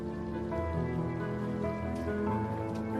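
Rain falls amid rising tides and Scirocco winds, a soft continuous patter with faint drips under a quiet, steady wash of water.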